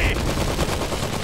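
Rapid gunfire and artillery fill a battle in the video game Iron Harvest, a dense, continuous roar of overlapping shots with no pauses, loud and close.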